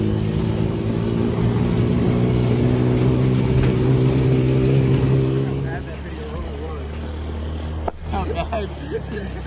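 A car's engine roars loudly and steadily at full throttle for several seconds, then drops away abruptly to a quieter road hum, with people talking over it.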